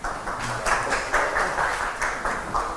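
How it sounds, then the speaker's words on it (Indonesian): A live audience applauds at a talk session, a moderate round of clapping that swells in rhythmic waves, fairly steady throughout. "Jadi kok kalian tepuk tangan kayaknya setuju sama saya kalian ya."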